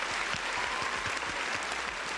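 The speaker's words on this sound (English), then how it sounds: "We should do the people clap thing real quick." Applause marking the end of the final day of a Lore & Legends Tactician's Crown costream. A steady crowd of clapping holds at an even level for a couple of seconds without talk.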